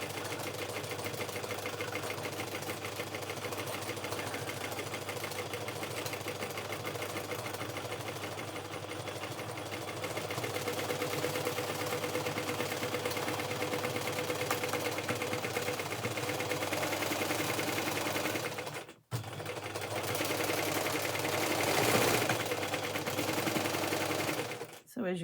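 A sewing machine runs fast and steady for free motion embroidery on fabric, a continuous close mechanical whir that briefly cuts out near the end and resumes.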